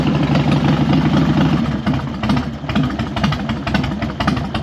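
A cold Harley-Davidson FXDX motorcycle engine idles loud and close, a steady lumpy V-twin rumble with mechanical clatter running throughout.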